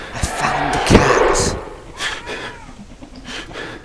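A cat meows inside the video game Erie, several short cries over about four seconds, loud and close, mixed with thuds and other game noise.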